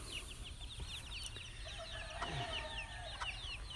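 Chickens cluck and chatter continuously against a low background rumble, with the odd sharper call breaking through.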